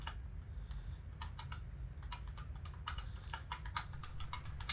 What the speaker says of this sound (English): I don't know why I'm typing whenever I just said it